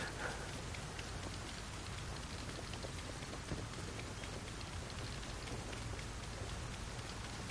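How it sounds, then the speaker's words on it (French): Steady video game rain in Battlefield 2042 patters continuously on surfaces, a dense even hiss with no voices, holding at the same moderate level throughout. "Il y a les gouttes de pluie sur l'arme les mecs."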